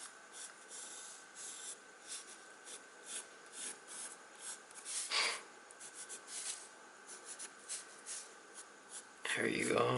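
A colored pencil scratches across paper in soft, close strokes of uneven length, with a few heavier passes and a louder rustle at the end.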